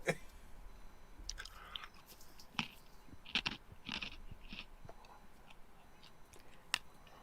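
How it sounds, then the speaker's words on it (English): People eating something crunchy, scattered close crunches and chewing bites with irregular timing over a quiet room background, faint overall and with no talking. "Nope, that's us eating."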